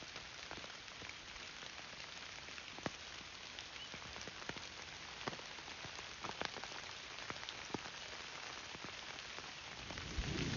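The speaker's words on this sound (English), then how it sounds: "I'm not a big fan of hunting in the rain." Steady rain falling on surfaces outdoors in southern Ohio on a hunting day, with scattered louder drips and patters throughout, fairly quiet and continuous, no voices.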